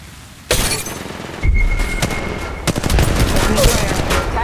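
Rapid automatic gunfire from the Apex Legends Mobile video game, loud bursts of shots with continuous rattling fire and echoing impacts running through most of the few seconds, with faint game voice callouts underneath.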